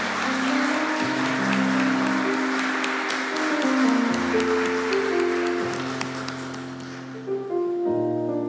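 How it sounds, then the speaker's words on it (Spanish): A church audience at an Advent retreat applauds to welcome a priest, dense sustained clapping filling the room while organ or keyboard chords ring underneath, fading near the end. "lo recibimos con un aplauso"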